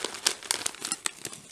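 A bag of Lorenz Pom Sticks Hot & Spicy potato snack being opened: a close, brisk run of plastic crinkling and rustling with sharp crackly bursts, no voices.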